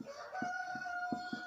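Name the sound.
rooster crowing in the morning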